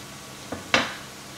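Olives tipped into a pan of cooked-down tomatoes, two quick close clatters against the pan, the second louder, then a low quiet background.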